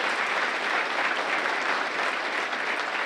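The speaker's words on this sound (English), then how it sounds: "Let's give them a round of applause on their wonderful effort" An audience at a Founders' Day event gives a string quartet a round of applause, a steady, dense wash of clapping from many hands that holds evenly throughout without a break.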